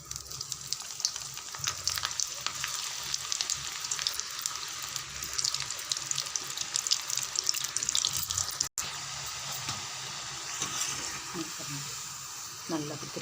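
French fries fry in hot oil with a busy, continuous sizzle and crackle, close and fairly loud, while a person talks intermittently over it.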